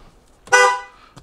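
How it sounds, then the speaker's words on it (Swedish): One short, loud car horn honk from a 2003 Volvo V70 sounds close up, fading quickly into near silence. "Och tutan funkar."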